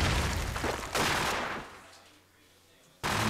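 Automatic gunfire spray in a competitive first-person shooter match between suXus and WinFakt, loud bursts at the start and again at the end with a quieter gap between, under excited commentary.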